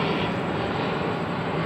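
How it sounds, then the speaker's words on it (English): An airplane passing overhead in a street setting in Arizona, a broad, steady engine roar filling the scene at close, even loudness, with no talk. "Let's let this plane pass."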